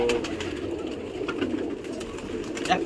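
Pigeons coo softly and continuously at close range, a low murmuring burble from a flock kept for racing, with no voices present.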